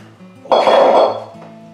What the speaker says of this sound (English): I'm quite simply going to pour in my 3 pounds of raspberries.